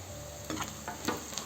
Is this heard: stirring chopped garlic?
yes